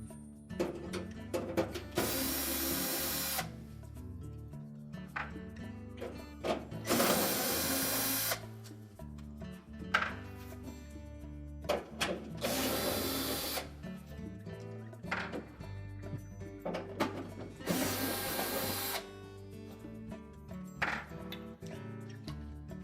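A power driver removes screws from the evaporator cover inside a Whirlpool refrigerator, four separate bursts of buzzing motor whir spaced a few seconds apart, with small clicks and handling knocks between them.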